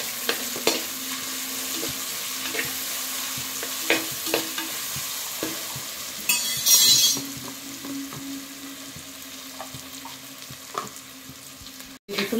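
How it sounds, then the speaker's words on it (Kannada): Ginger and green chilli frying in a pan, with a soft continuous sizzle, scattered spoon stirs and scrapes, a brief louder hiss burst partway through, and a sharp clink near the end. "ಹಾಕ್ಕೊಂಡು ಚೆನ್ನ ಮಾಡಿ ಹುರಿಬೇಕು"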